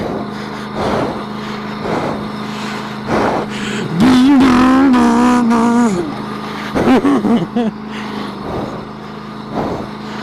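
A 2016 Can-Am Outlander L 500 V-twin ATV idles, then revs hard in a loud, rising, sustained burst. Several shorter blips follow before it settles back to a rumbling idle.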